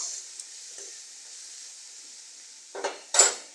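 Quiet kitchen hiss of onions and chillies frying in a pan, then two short scraping stirs of a utensil against the pan near the end.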